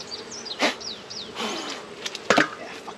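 Honey bees buzz around a hive during a honey harvest, with several close passes swelling and fading in short bursts against a soft background hum.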